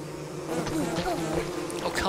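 A dense, close buzzing of bees in the video game Don't Starve: Shipwrecked hums steadily throughout, with a little background game noise.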